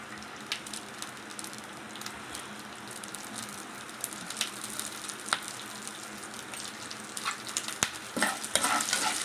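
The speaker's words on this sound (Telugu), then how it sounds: "ఇలా మినపప్పు, శనగపప్పు, పచ్చిమిర్చి, చింతపండు ఇలా ఫ్రై చేసుకోవాలండి." Urad dal, chana dal, green chillies and tamarind fry in hot oil, giving a soft continuous sizzle with faint crackles and stirring scrapes that grow a little busier toward the end.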